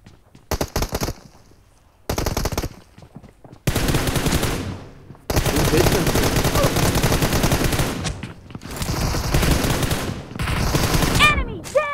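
Automatic rifle fire in the battle game PUBG during a one-on-one M416 room match, loud rapid bursts that start and stop repeatedly and then settle into sustained volleys, with some brief pauses between bursts.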